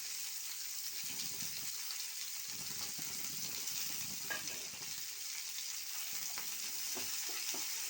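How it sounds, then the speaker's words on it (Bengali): Chopped small onions fry in oil seasoned with black cumin seeds, giving a continuous quiet sizzle with intermittent stirring scrapes and rustles, close but low in level and without talk. "দেখো পেঁয়াজগুলো এমনি করে ভাজা হবে।"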